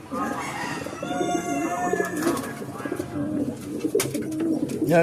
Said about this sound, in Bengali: এই যে দেখুন, এই একটা এগবাজ পায়রা, দেখুন দুদিকে ডানা একটা করে সাদা আছে।